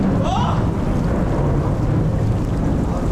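Heavy rain roars outside a rocky cave, with loud rumbling that fits thunder. The dense wash of noise stays constant and close throughout.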